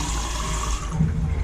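Plant roots lowered into a container of plain water give a steady, close, continuous watery wash that fills the moment, with no voices over it.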